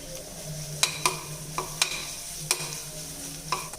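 Onions stir-frying with ginger-garlic paste in a steady sizzle, punctuated by sharp metallic scrapes and taps of a spatula against the pan at irregular intervals.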